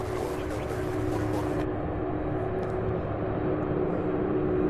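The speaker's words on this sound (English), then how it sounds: "This one is wasting no time. It's taxiing." A jet airplane taxies at Louisville International Airport, its steady engine roar and low rumble running continuously at moderate distance, with a high whine that drops away partway through.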